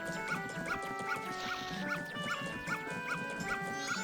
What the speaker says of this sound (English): Do not stop and try to pet the dog. He is angry.